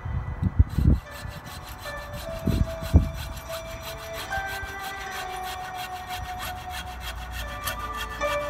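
A hand saw cuts through a wooden handle for a twisted screwdriver, a steady rasping drone following a few knocks and taps at the start, close by, with no talking.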